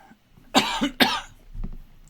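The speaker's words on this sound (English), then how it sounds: "There's that cough." Two sharp coughs half a second apart, close and clear, followed by a softer throat sound, heard during a livestream with otherwise quiet surroundings.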